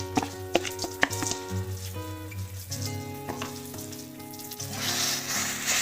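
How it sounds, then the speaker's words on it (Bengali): Boiled, mashed olives dropped into hot oil for a quick chutney, giving a close, crackling sizzle with a few clattering utensil knocks early on, under an audible tonal background hum. "তেল গরম হয়ে গেছে এবারে জল পাই সেদ্ধ করে ম্যাশ করে নিয়েছি এবারে তেলের মধ্যে ছেড়ে দিলাম"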